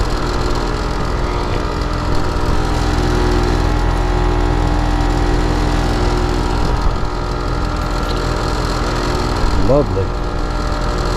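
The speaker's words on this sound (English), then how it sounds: "Compressor is running, but it ain't doing nothing." A car engine idles loudly and steadily with the AC compressor running, a constant close mechanical drone with a faint whine rising briefly near the end.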